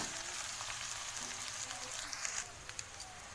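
Boiled chowmein tossed with fried potato and cabbage hisses in a hot pan, a steady close sizzle with a few scraping clicks toward the end.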